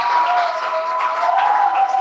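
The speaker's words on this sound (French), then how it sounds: "Qui acclamez très fort pour l'Éternel." Church congregation at a night prayer service clapping and cheering loudly, a dense roar of clapping with raised voices and a sustained tone running through it for two seconds.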